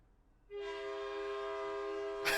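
A loud, steady train horn blasts from about half a second in and holds unbroken to the end, a sustained harmonic tone over faint rumble, with a brief burst of noise at the close.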